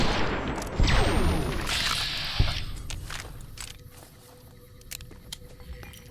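Gunfire in Fallout New Vegas comes as a few sharp shots early on, followed by scattered clicks and scuffs, moderately loud and close, with no talking.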